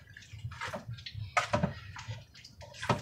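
A spoon stirs onion and other ingredients inside a pressure cooker, making soft scraping and sloshing sounds close up, with light wet clatter in uneven strokes.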